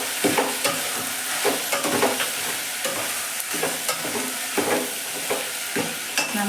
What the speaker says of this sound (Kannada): ಟೊಮೆಟೆಯನ್ನು ಈರುಳ್ಳಿ ಬೆಂದ ನಂತರ ಮೊಳಕೆ ಹಾಕಿ ಚೆನ್ನಾಗಿ ಮಿಕ್ಸ್ ಮಾಡಿ